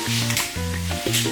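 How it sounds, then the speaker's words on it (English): Onions fry in a pan with a steady, close sizzle and bubbling, accompanied by a low tonal hum and a few soft stirring movements. "once those onions have started to brown, we're gonna add the eggs."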